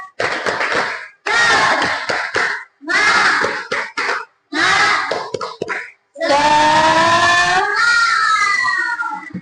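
Classroom children perform a rhythmic spirit clap, several loud, close bursts of clapping and unison chanting voices with short pauses between, ending in a longer sustained shout.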